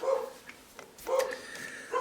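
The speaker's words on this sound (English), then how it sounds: "Oh, great, now Kicker's barking" A dog barks in short bursts, close and moderately loud, with quiet gaps between the barks and no talk over them.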